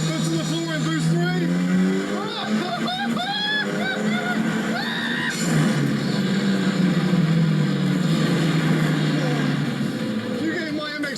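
Ariel Atom 4R driven at full throttle in boost mode, the engine note climbing in repeated rising sweeps through the gears, loud and close, with a person talking over it throughout.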